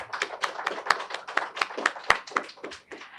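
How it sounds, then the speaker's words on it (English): Audience applause at a panel discussion, a small crowd clapping in a brisk, irregular patter at moderate volume for a few seconds. "Can we have a count of applause for Ankur, everyone?"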